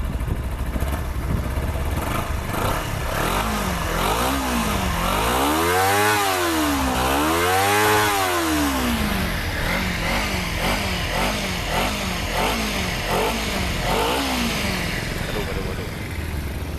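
A 2017 Kawasaki Z250 motorcycle engine runs close by and is revved twice in smooth rising and falling swells before it drops back to a steady idle, with a voice talking over it.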